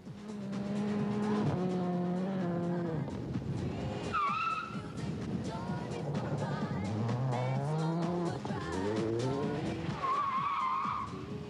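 A car revs hard and skids, with shrill tire squeals rising and falling repeatedly over the roaring engine.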